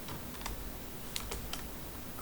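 Typing on a computer keyboard during SQL Server setup: a few scattered, light key clicks and a short burst of taps over a steady low hum, fairly quiet and close, with no speech.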